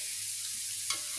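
Shallots being stirred in hot frying oil, a steady soft sizzle throughout with one brief scrape of the spatula near the end, close and fairly quiet.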